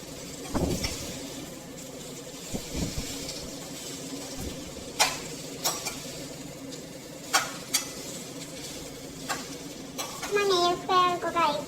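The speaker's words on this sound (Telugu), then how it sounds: "ఇంకా ఆనియన్స్ ఫ్రై చేసుకుంటున్నాం కదా పలావ్లోకి, ఫ్రైడ్ ఆనియన్స్" Onions fry in a pan for prawn pulao with a steady low sizzle, broken by occasional spoon clinks and stirring scrapes; a voice is heard briefly near the end.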